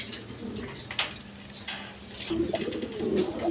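A male cream-coloured racer pigeon coos repeatedly in a loft, its low throaty calls rolling over steady background noise and faint clatter.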